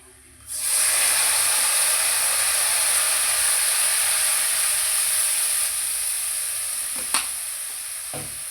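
Loud, steady sizzle and hiss bursts up as vinegar is poured into a hot pan of traditional lemon and date pickle, holding strong for several seconds and easing slightly, with a couple of faint utensil taps near the end.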